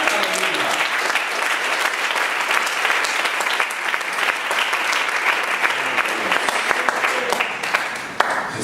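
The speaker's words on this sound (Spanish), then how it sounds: "Un aplauso al Señor." A church congregation breaks into loud, sustained applause, a full crowd clapping continuously and evenly for several seconds with crowd noise and voices mixed in beneath.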